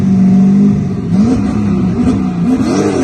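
A drag race car revs hard at an end-of-year gear-banging event on the track, a loud, close engine roar with rising and falling pitch as it accelerates, no voices.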